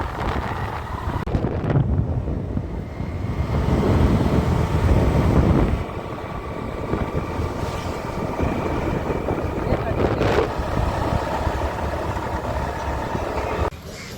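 A boat moving on the river at Ribandar, Goa, heard as a steady low engine rumble mixed with strong wind buffeting the microphone, continuous and fairly loud throughout.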